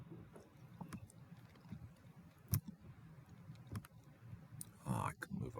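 Sharp mouse clicks sound at a computer while working in statistics software, a few isolated taps spaced apart over a quiet room hum, with a brief rustle near the end.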